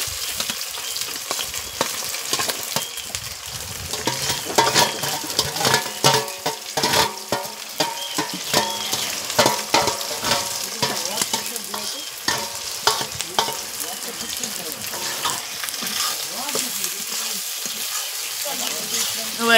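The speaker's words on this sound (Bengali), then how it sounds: "এবার ভাজা হবে এটাকে সম্পূর্ণভাবে।" Vegetables with capsicum fry in a pan, stirred continuously with rapid scraping and clattering strokes over a constant bright sizzle, close and busy, with a faint voice in the background.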